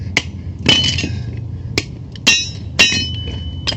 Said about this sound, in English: Now you just take your hammer and smash these little pieces right out.